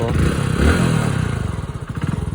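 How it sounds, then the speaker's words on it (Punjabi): A motorcycle engine thrums nearby with a steady, pulsing putter, fairly loud, and a brief thump early on. "ਚੱਲ ਵੀ ਅੱਜ ਮੋਟਰਸਾਈਕਲ ਦੀ ਵੀ ਮਾਰ ਕੇ"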